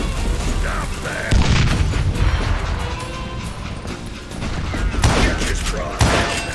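Shotgun blasts ring out in the Wild West shooter game Call of Juarez, several loud booming shots amid a noisy firefight, with a few heavy impacts spaced across the scene.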